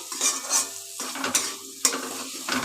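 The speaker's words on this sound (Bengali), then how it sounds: "এই যে মশলাটাকে ভালো করে এবার আমি কষিয়ে নেব।" Ground cumin and garam masala being sautéed in a pan for an egg curry, a crackling sizzle broken by scraping spatula strokes and a few sharp taps against the metal, close and moderately loud with no talking.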